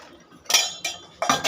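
Dishes, pots and cutlery clink together in a Pakistani family home kitchen at breakfast time, three distinct bright clattering bursts close by in an otherwise quiet room.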